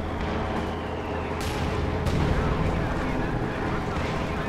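An Su-85 tank fires in Company of Heroes 2 amid a dense battlefield roar, with a couple of sharp blasts standing out briefly over the din as someone talks.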